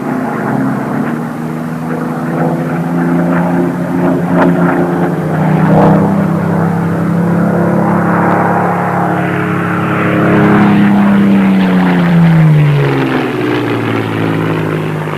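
A propeller aircraft drones loudly and continuously through aerobatic manoeuvres at an air display, its engine pitch rising and falling as it pulls up and turns.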